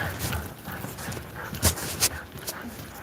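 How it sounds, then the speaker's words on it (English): Dog moving about and panting close by in an abandoned hospital ward, soft scuffling under steady background noise with a couple of brief louder bursts. "I'm gonna meet my friend Serena's dog for a minute"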